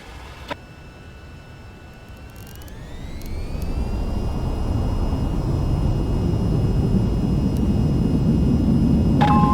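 Jet aircraft in the VTOL VR flight game spools up to full throttle for a runway takeoff, a rising whine giving way to a loud, steady broadband roar that keeps building, with a couple of faint clicks.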